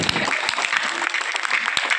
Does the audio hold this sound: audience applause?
yes